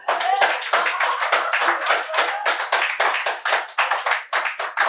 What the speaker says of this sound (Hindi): तालियां वैसे खूब बज रही हैं